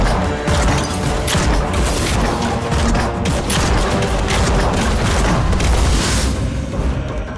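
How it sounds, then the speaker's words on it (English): Dense, loud booming blasts and crashing explosions pound continuously in a video game as a multi-cannon fires trios of small bombs at once, a rapid barrage of impacts with heavy rumble throughout. "It fires a trio of smaller bombs simultaneously for less individual damage"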